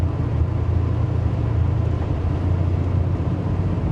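Deep, steady rumble of a big block engine in a 1986 Buick Regal Limited, a constant low throb heard from inside the car with no voices.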